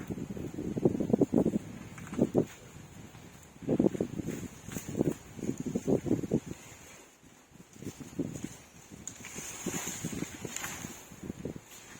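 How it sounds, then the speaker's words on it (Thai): Cool breeze stirring leaves outdoors, with soft irregular rustling bursts and gusts that rise and fade, fairly close and moderately quiet, with no talking. "ลมพัดเย็นๆ"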